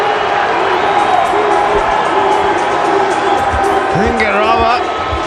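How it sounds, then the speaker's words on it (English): A cricket crowd at a Pakistan versus Zimbabwe one-day international cheering a six, a steady, loud roar that carries on under a commentator's voice. "Garava bringing the crowd to life. They're loving it."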